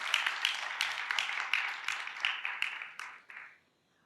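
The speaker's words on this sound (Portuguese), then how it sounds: "Vamos uma salva de palmas para o Bruno" An audience at a Brazilian business communication congress panel applauds a guest speaker. Steady, moderately distant clapping continues for about three seconds, then quickly dies away into silence.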